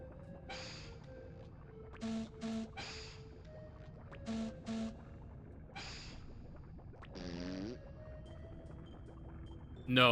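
Fart sound effects from a sound-matching minigame in Donkey Kong 64: a series of short, buzzy blasts in uneven rhythm, ending with a longer wobbling rasp, heard quietly over faint background.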